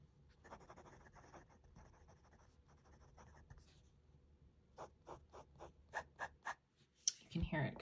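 Pelikan 14k gold fountain pen nib writing on paper, a soft steady scratching of strokes that gives way to several louder, distinct taps and strokes near the end, close and quiet.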